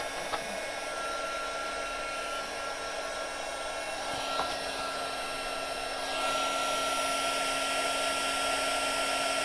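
A heat gun blows a steady, loud stream of hot air over card paper for embossing, its whooshing roar continuous throughout and growing slightly louder toward the end, with no one speaking.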